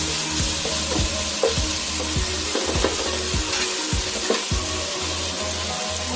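Ginger paste, salt and turmeric fry in hot oil for vegetable pilau, giving a loud, steady sizzle with stirring scrapes throughout.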